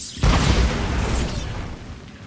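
A Bombarda blasting spell erupts in Hogwarts Legacy as a single loud, close explosion with a sudden deep boom. A crackling, rumbling tail slowly fades over the next two seconds.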